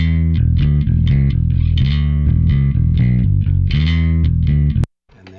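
Bass guitar runs through a distortion effect and is recorded direct, with a steady stream of gritty, buzzing notes that cut off abruptly just before the end.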